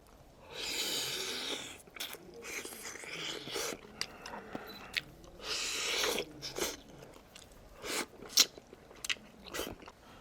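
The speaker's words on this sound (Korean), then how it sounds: "고기 한번 먹어볼게요" Someone bites and chews pork from a potato pork-bone stew, giving close, wet bursts of munching and crunching in uneven clusters, with no talking.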